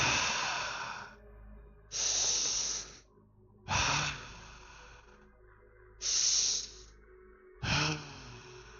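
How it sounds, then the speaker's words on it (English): Deep, slow breaths come in five long hissing waves with pauses between, close and steady, from a creature in a dark fantasy tabletop roleplaying scene. "Breathing deep."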